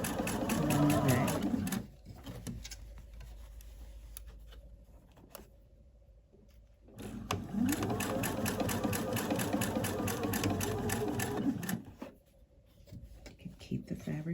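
A sewing machine stitches a linen shirt sleeve in rapid, even runs, pausing near the two-second mark and again around twelve seconds. A person talks quietly between and over the stitching.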